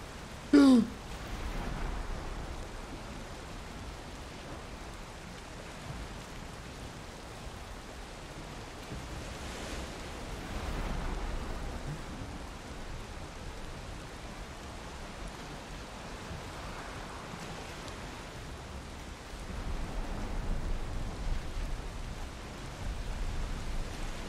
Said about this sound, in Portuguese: Tempestade de alto mar com jangada não!